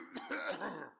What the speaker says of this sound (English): Still with the coughing.